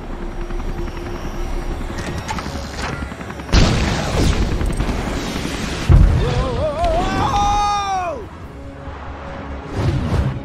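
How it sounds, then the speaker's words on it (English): A ship opens fire in LEGO Marvel Super Heroes, with loud booming blasts and bursts of gunfire over a whirring engine drone, followed by a descending whooshing, whistling streak; game voices speak around the action. "I'm reading an incoming ship. Watch out! It's about to open fire!"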